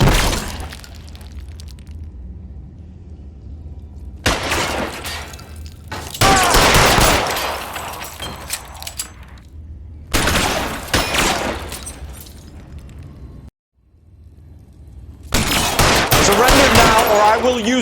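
Gunfire erupts in the video game L.A. Noire, with loud bursts of shots and breaking-glass crashes arriving in several intense stretches separated by quieter gaps.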